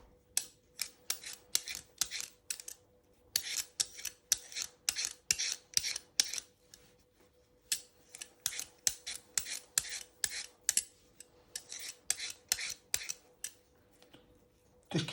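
Potatoes being peeled with a handheld peeler while making fish and chips: repeated short, crisp scraping strokes in quick bursts, close and fairly loud, with brief pauses between runs of strokes.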